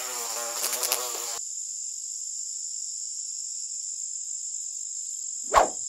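A toy hornet gives a steady, bright electronic buzz that holds evenly for several seconds, opened by a short burst of rattling tones and broken near the end by a quick swooping chirp.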